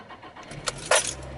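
Keys jingle, then a car engine cranks briefly and catches into a low, steady idle.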